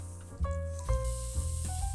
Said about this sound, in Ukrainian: Починаємо смажити.